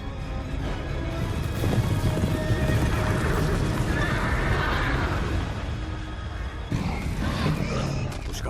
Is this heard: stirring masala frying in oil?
no